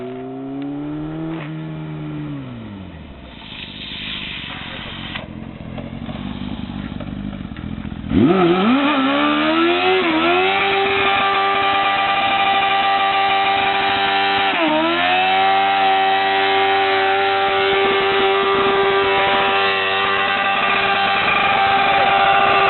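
A car does a burnout, its engine screaming at high revs for a long stretch as the tire spins on asphalt until it wears through. The loud, sustained roar rises and dips with the throttle and sounds close and harsh.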